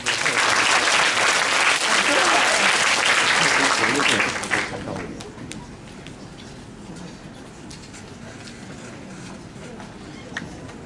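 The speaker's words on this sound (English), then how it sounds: "Please give them a big round of applause." Loud audience applause at a school bilingual class showcase performance fills the first four seconds, then fades to scattered claps and light crowd murmur.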